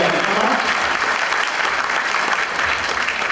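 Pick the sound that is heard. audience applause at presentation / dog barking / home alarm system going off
audience applause at presentation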